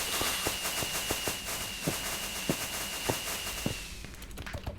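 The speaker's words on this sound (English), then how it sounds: "Wait, celebratory fireworks." Celebratory fireworks go off in a video game after a bedrock roof is cleared: a quick series of sharp pops and bursts over a steady high whine, then fading near the end.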